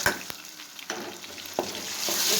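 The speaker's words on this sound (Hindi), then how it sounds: "इसको भी हम बहुत ही अच्छी तरह इसमें भून लेंगे।" Peeled, seeded tomatoes frying with onions in a pan, a steady sizzle with a few scraping stirs of a spoon, close and unaccompanied by speech.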